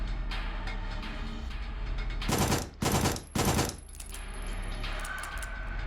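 A submachine gun in the Signalis video game fires in three loud, close bursts, each a rapid rattle, set against a steady low game hum.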